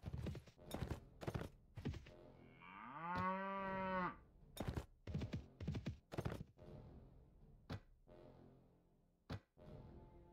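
A herd of cattle in Mount & Blade Floris Expanded gives a single long, drawn-out moo amid repeated hoof clip-clops and thunks, fairly close, with no talking.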